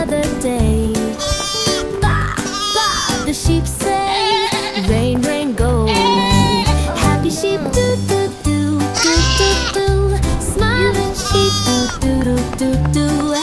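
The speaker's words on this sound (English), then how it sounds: "Ba, ba, the sheep say." Sheep bleating sounds are woven into a bouncy preschool children's song about farm animals, with repeated bleats riding over a busy musical backing of bass, percussion and melody.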